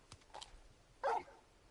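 A large dog in Final Fantasy 16 lets out a short, faint bark after a couple of soft huffs, heard alone against a quiet background.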